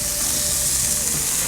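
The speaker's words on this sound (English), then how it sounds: "You hear that nice sizzle on the bacon." Bacon-wrapped pork sizzles in a preheated skillet, a loud, close, steady hiss of frying fat that continues without pause and with no talking.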